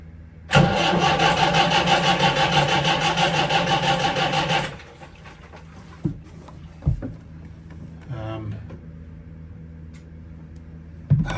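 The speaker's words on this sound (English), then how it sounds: "Let's start the engine" Boat inboard engine cranking and firing up aboard a sailboat under refit, a loud rough rumble for several seconds that then drops to a quieter idle, with a few knocks and clunks nearby.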